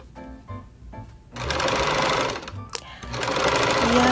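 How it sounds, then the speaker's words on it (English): A sewing machine back stitches a fabric scrunchie in loud, steady whirring bursts, stopping briefly before running again close up. "Back stitch when you start, back stitch when you're getting to the end"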